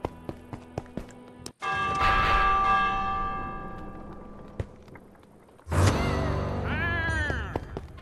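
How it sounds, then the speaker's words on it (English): A warning bell rung in the video game Minecraft Dungeons: a few sharp ticks, then a sustained metallic bell tone with a long ringing decay, followed later by another bright struck tone and a shimmering chime. "Ring the warning bell"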